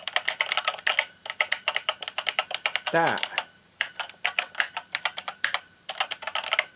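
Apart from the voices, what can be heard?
typing on Acorn Electron computer keyboard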